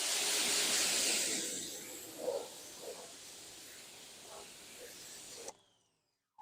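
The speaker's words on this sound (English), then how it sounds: "just give it a couple sprays" McKees Hydro graphene ceramic coating spray hisses onto a ceramic-coated car in a strong, close burst. The hiss fades over a few seconds with faint knocks and goes quiet near the end.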